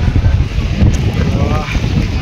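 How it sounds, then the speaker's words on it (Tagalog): Strong wind buffets the microphone high on a foggy mountain road near Tagaytay, a loud, steady roaring rush with gusty swells, close and unbroken. "Malakas ang hangin dito sa taas."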